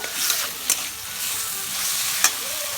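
Snake gourd stirred with salt in a frying pan: continuous sizzling, broken by a couple of sharp spatula clicks against the pan, close and fairly loud.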